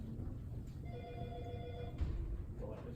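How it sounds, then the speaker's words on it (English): A telephone rings during a mayor's talk to a group, a steady electronic ring lasting about a second, set against a low background hum. "We'll let Ms. Bobet get the phone"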